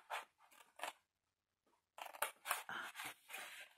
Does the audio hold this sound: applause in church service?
no